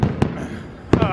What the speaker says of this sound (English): I mean, it's actually got a great view of fireworks